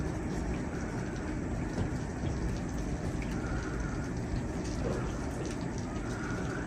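A steady, faint wash of broadband noise like distant surf rolling continuously, with no distinct individual breaks and no talking.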